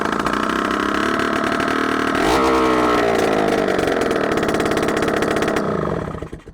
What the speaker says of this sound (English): We fixed the whole motorcycle and it started almost immediately.